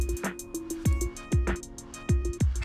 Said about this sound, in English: let's just get a fun sound like this one saying idiot